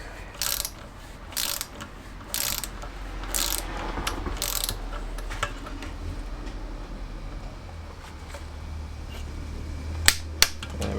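A torque wrench tightens the crankshaft bolts on a classic Fiat 500 engine during a rebuild, making bursts of ratcheting clicks over the first few seconds, then a quieter stretch broken by a couple of sharp clicks near the end.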